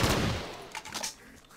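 Gunfire in a Call of Duty custom zombies map, a loud shot burst at the start followed by a few quicker, fainter shots that fade out.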